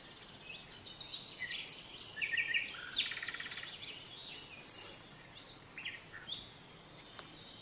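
Ringneck doves call in the background of a hot summer outdoor scene, their faint, scattered notes sitting over a low, steady bed of ambient noise with no voices.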